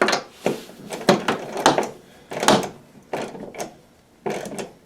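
Screws being tightened on the cover of a Toro Power Max snow blower, heard as a run of close, sharp ratcheting clicks and mechanical clatter in uneven bursts, with no talking.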